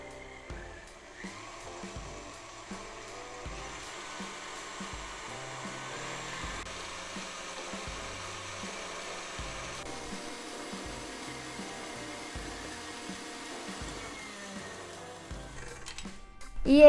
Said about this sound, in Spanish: esto lo puedes batir con una batidora de mano